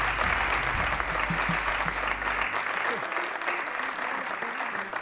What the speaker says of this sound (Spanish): Bueno, un fuerte aplauso para Jorge Puello.